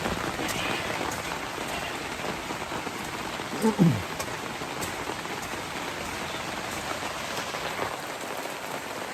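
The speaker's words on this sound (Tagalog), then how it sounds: "Yan, lakas ng ulan o." Heavy rain from a passing storm pours steadily onto a surface, a dense unbroken hiss with a brief louder knock partway through.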